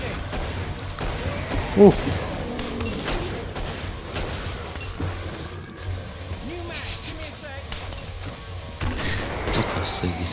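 A minigun fires in a video game in a long rattling stream of rapid shots with booming impacts and mechanical clatter, heard under excited players' voices, with one sharp exclamation.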